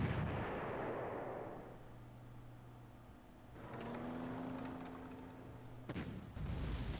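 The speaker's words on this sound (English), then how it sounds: "there's a real lot of artillery there." Artillery fire in the wargame Panzer Corps: deep booming blasts and a rolling rumble, with a fresh burst of impacts near the end.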